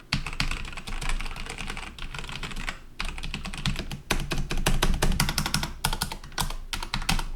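Steady typing on a Viper B760 mechanical keyboard fitted with brown switches, a dense run of close, crisp key clicks and thocks with brief pauses, no voices.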